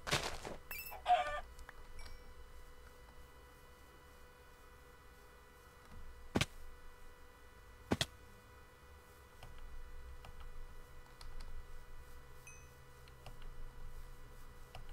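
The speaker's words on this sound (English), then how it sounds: "There's a chicken as well." Clucking from a Minecraft chicken in a modded Jurassic World: Revelations game, a few short bursts near the start and a couple of sharp clicks later over a quiet game backdrop.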